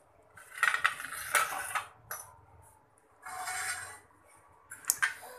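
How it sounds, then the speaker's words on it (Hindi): A spoon stirring a vermicelli sevai sweet dish in a metal pot, making intermittent scraping and clinking bursts separated by short pauses, fairly close and moderately loud. "चलिए अब इसे अच्छे से चलाएंगे"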